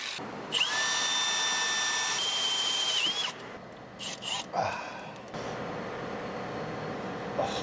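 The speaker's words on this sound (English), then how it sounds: "we gotta get this busted stud out of the way and drill it out" A power drill whines at high speed in bursts, drilling out a broken stud on a 1968 Dodge R/T, stopping and restarting with short pauses and faint clatter between runs.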